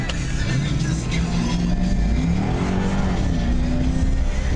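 2001 Chevrolet Corvette convertible engine revving as the back end fishtails with traction control off, a loud, close, rising and falling engine drone with shifting pitch throughout.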